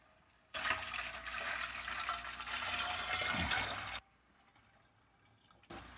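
Nutrient water, pH-adjusted, pours from a jug onto garden plants outdoors, a loud continuous splashing rush for about three seconds that stops abruptly, with a brief restart at the end.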